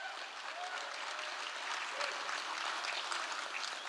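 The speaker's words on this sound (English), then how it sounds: "Let's give all the people helping out a big round of applause." A theatre audience applauds volunteers with steady, even clapping that carries at a moderate distance and holds without a break throughout.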